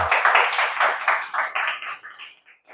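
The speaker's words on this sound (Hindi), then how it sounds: "अगर आ गया है तो दिल से ताली बजा सकते हैं।" Several pairs of hands clap together in a quick, uneven burst that thins out and fades toward the end, with no talk over it.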